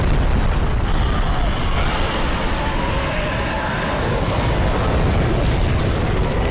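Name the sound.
dragon setting fire below in Dark Souls 3 video game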